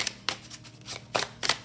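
Tarot cards are shuffled up close in a series of quick papery riffles and snaps, irregularly spaced sharp bursts over soft handling noise, with no talking.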